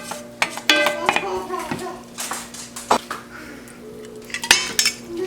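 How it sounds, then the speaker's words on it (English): Rinsed black beans and hot Rotel go into a pan with clattering pot and utensil clinks and scraping stirs, close and irregular, while a voice and other speech are heard at times. "I've rinsed the black beans and I'm going to be adding those along with the hot rotel"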